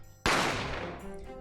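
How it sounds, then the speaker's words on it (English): A single loud gunshot blasts out in the Great Ace Attorney video game, a sharp crack that decays into a long ringing tail with no talking over it. "I didn't have time to think about where the sound of the gunshot had came from."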